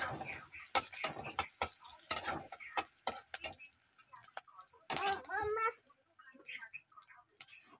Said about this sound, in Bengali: দাঁড়া আলু মাখাটা মিক্স করে নি